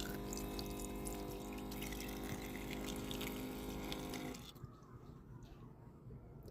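Water pours steadily from a cordless battery-powered faucet on a Regal boat, with the pump's hum running under the flow. It cuts off abruptly after about four seconds, leaving quieter background noise.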